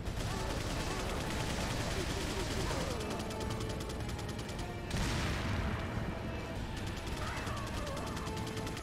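Submachine gun fire in Resident Evil 4, rapid continuous bursts packed densely through the stretch, loud and harsh, with a sharp louder crack partway through.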